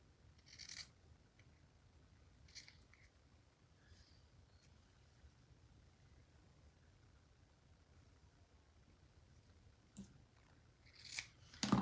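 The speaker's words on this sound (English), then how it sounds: "Trim this down a little bit." Scissors trim craft material in a quiet room: faint, scattered snips and rustling, with a few sharper cuts near the start and a louder flurry at the very end.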